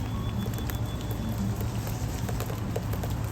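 Gentle rain falls outside a front porch as a soft, steady patter of drops. It holds a constant hiss throughout, with no voices.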